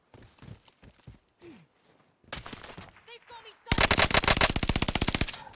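Call of Duty: Modern Warfare gameplay: a few quiet footsteps and soft breaths, then single gunshots followed by a loud, rapid burst of automatic gunfire close by.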